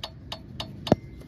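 Rhythmic ticking from a Mitsubishi 4G18 Lancer engine, sharp light ticks repeating about every quarter second at close range, with one heavier knock near the end.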